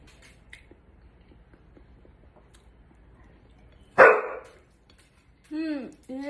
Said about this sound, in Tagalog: Hindi po yung aso namin.